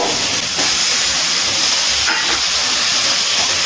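A large tomato goes into spice paste frying in a pan for a cauliflower and prawn curry, setting off a loud, steady broadband sizzle and hiss that continues without voices.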